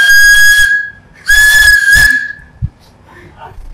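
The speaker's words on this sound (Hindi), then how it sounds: "हाँ भाई आज यहां में बताएंगे पिक्चर हॉल के अंदर कैसे सीटी बजाते हैं" A shrill, steady pipe whistle blown in two long blasts with a shorter burst between, loud and close, with faint breathy noise after.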